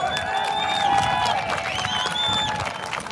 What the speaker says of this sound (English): Big hand of applause for Jacob.